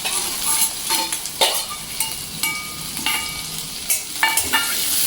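Onion sautéing in a pan with garlic sizzles loudly and steadily, broken by repeated scraping stirs of a spatula against the pan at irregular intervals.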